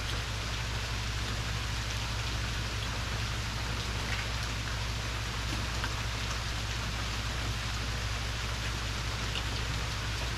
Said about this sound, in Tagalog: Umuulan sa forest, guys.